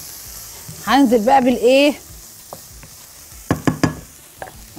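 Chopped garlic and onion sizzle in a pan for a liver and gizzard stew, a steady soft hiss running throughout beneath a woman's brief speech, with a few sharp clinks of a utensil toward the end.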